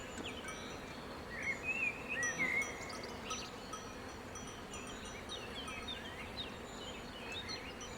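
Honeybees hum steadily around an open hive during colony inspection in Italy, a dense, continuous buzz close by with a few louder passes and faint birdsong in the distance.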